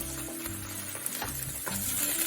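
Garlic and ginger frying in a pan, a close, steady sizzle with crackling pops and a few clicks of stirring throughout, no voices.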